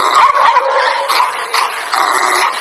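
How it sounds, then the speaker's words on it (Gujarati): Several dogs barking and yelping loudly and close by in a neighborhood street, a dense, overlapping run of barks with no break for nearly three seconds. "કુતરા ભોહે મરી ગયા"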